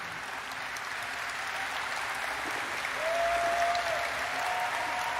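Audience applause at the Gamescom opening night event, a steady broad wash of clapping from a large crowd that swells slightly midway, with a faint sustained tone sliding in near the end.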